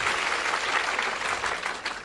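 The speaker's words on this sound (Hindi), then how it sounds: "सवाल के लिए तालियां बजाइए" A crowd at a religious discourse claps in a short, dense burst of applause, steady and fairly loud, with no one speaking over it.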